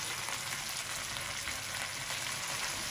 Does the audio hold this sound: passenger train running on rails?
no